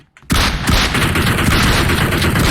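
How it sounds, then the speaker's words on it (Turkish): Shotgun fire in the mobile battle-royale game PUBG Mobile, a sudden loud blast after a brief silence that carries on into dense, sustained gunfire and booming, close and harsh. "Oğlum adama ileriden pompalı sıkıyorum."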